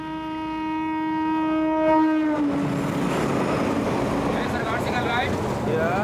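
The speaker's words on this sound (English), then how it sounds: "make sure that his line is clear for the coming train." An Indian train's horn blows in long steady tones, then the rumble and clatter of the train passing close by fills the rest, loud and continuous.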